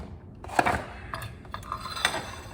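Kitchen clatter of a plate being lifted out and set down while making a peanut butter and jelly sandwich, a few sharp close clinks of dishes against each other, moderately loud with no talking.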